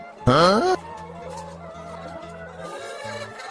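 A loud burst of fowl calling rings out briefly, then softer clucking continues over a low steady hum and background murmur.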